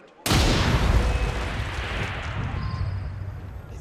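A single heavy shot goes off in Assassin's Creed Syndicate gameplay set in London's Whitechapel. The blast starts abruptly and its booming, rumbling tail fades slowly over several seconds.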